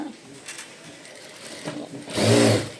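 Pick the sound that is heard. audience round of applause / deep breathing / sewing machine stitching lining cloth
sewing machine stitching lining cloth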